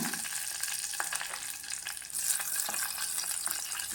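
Cumin seeds and slit green chillies fry in coconut oil for a potato curry, giving a loud, dense sizzle and crackle up close, with a few stirring scrapes through it.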